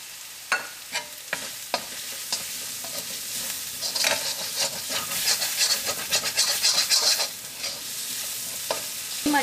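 Turmeric powder fries in a pan with ginger garlic paste for chicken kothu chapathi, a soft steady sizzle broken by repeated sharp scraping strokes of a spoon stirring against the pan, close up.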